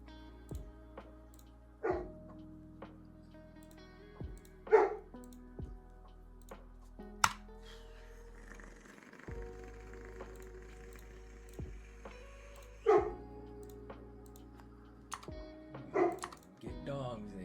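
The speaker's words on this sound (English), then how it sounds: "Get dogs, they said." Dogs bark indoors in sharp, loud, close bursts spread irregularly across a quiet room, with single woofs and short clusters separated by pauses.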